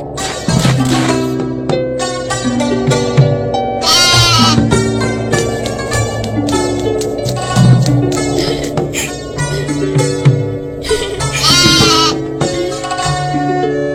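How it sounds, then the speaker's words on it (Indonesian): A goat in an animated tale of an honest milkmaid girl bleats a few times over steady background music. "Itu namanya kambing pintar."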